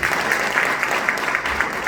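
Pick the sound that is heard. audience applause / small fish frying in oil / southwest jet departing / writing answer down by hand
audience applause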